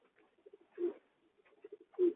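Racing pigeons coo close by in soft, low, throaty phrases, with two sequences of short repeated notes that each build to a longer rolling coo.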